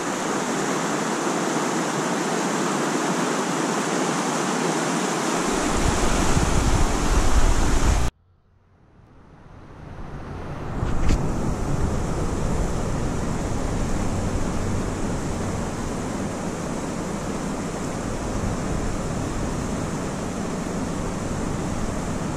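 A forest stream flows in a steady, broadband rush, loud and close, cutting out abruptly once and then returning a few seconds later as constant water noise with no talk.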